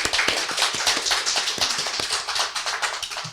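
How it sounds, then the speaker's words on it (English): A small group claps briefly for an honoured couple during a casual online gathering, the claps light and uneven, a few hands patting in loose rhythm at close range with no talking. "here's a little clap for them."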